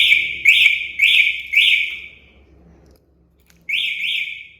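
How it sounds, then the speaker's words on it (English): An e-bike's anti-tamper alarm going off while parked, sharp high-pitched electronic beeps in a quick series of three, a brief pause, then two more, loud and close. "the alarm will activate"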